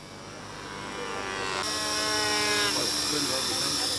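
Remote-control model helicopter flying nearby, a high whining rotor and motor buzz that rises in pitch and grows louder.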